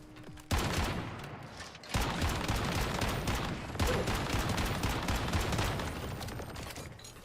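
Sustained rapid gunfire in the video game Once Human, dense automatic bursts starting abruptly and running almost continuously with brief breaks, loud and close.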